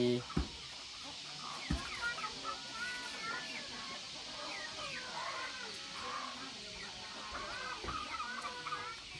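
Chickens cluck and chatter continuously in a busy farmyard, with a couple of sharp knocks and steady background noise.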